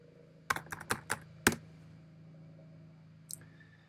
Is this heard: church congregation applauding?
no